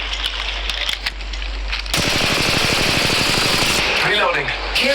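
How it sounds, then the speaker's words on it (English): Rapid automatic gunfire erupts in Apex Legends Mobile. A dense, steady burst of shots runs for several seconds over a low background hum and is loud and close. Short bursts of game voice lines come before it. "Shooting."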